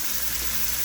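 A brief, steady hiss of tomatoes sautéing with onion and garlic in hot oil, close and dense, with no voices.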